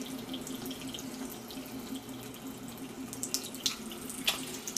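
Steady rushing water from an open water heater drain valve while flushing out residue, with a low hum underneath, and brief spitting bursts of excess air toward the end.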